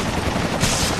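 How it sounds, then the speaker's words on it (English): Rapid gunfire in the Resident Evil 5 Versus video game, a dense, loud continuous burst of shots that swells brighter toward the end. "Gunfire."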